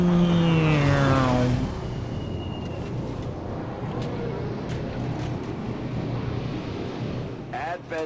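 A military transport aircraft lifts off during an XCOM 2 mission, a loud broad engine roar and rumble that swells and holds steady for the whole stretch, with a rising whine under game voices at the start.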